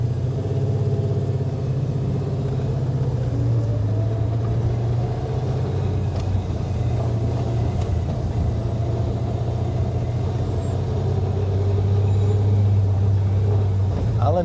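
A 1971 Plymouth Barracuda convertible, restored to original Mopar spec, idles or cruises with a steady deep engine rumble that stays loud and even throughout.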